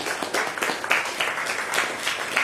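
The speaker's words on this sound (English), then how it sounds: "Give them a round of applause." Steady applause from an audience at an evening health event, dense clapping at moderate volume with no voices over it.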